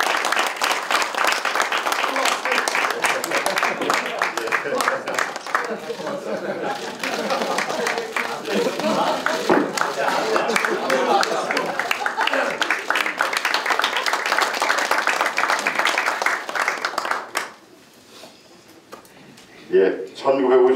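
Long, loud applause from a crowd at a Democratic Party field leadership meeting in Incheon, a dense, sustained clatter of many hands, with voices talking during it, that falls away near the end before a few sharp sounds.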